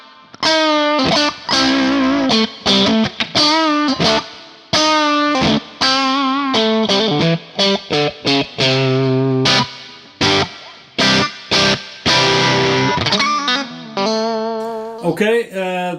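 Guitar played through a Neunaber Immerse reverb pedal with the tone set to 3 o'clock, giving a brighter sound: a continuous run of loud, distorted, strummed chords and notes with a wash of reverb, no voices.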